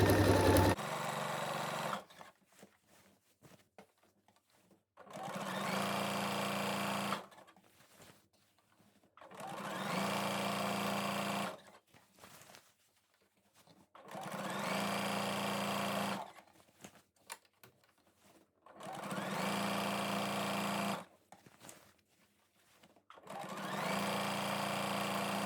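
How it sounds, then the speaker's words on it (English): Sewing machine stitching over stretched elastic on a skirt waistband, steady whirring runs of several seconds each, broken by quiet pauses, close and alone without talk. "You're sewing on top of the elastic, which is why you have to stretch it, and basically go round again, parallel to"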